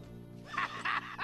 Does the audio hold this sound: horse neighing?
yes